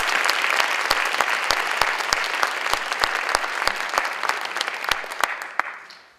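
Sustained, loud applause from a gala audience honoring award recipients at the AAFSC Gala. Sharp individual claps ring out over a dense wash of clapping that fades at the end.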